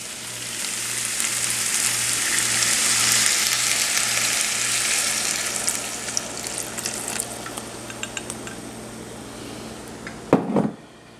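Pot of potatoes, carrots and corn covered with stock bubbles and sizzles steadily on the stove, a soft continuous hiss with a low hum underneath, ending in a brief clatter.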